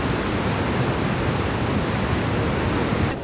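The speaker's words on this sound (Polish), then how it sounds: "Ta woda tryska, jakby po prostu ktoś jakiś kurek odkręcił." Waterfall gushing into a canyon in Yellowstone, a steady, loud, broadband roar of rushing water that holds unbroken from start to finish with no voices.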